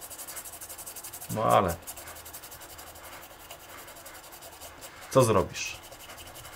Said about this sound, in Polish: Lubicie dźwięk szczoteczki?